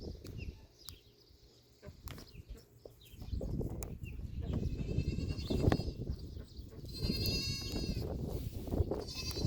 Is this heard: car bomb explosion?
no